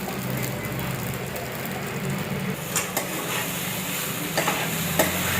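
Sago pearls being sautéed in a pan for sabudana khichdi, heard as a steady close stirring and scraping texture with light sizzle, a few sharper utensil clicks near the end.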